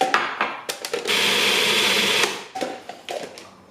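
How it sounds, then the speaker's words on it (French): Almonds and sugar are ground in an electric grinder, sounding as a loud, close whirring burst of about a second that rattles, set between short clattering pulses and knocks. "on va commencer à les moudre avec du sucre, comme ça, ce sera plus facile à mélanger"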